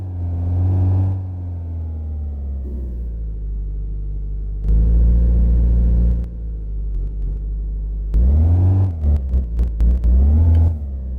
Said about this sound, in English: Put it in neutral, just rev it.